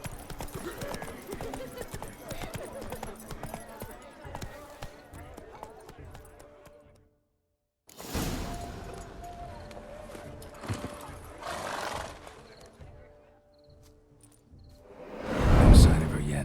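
Geralt's horse Roach in The Witcher 3 clops along in a steady hoofbeat rhythm, fairly close, with a whinny near the end, while game speech and ambience carry over the hooves.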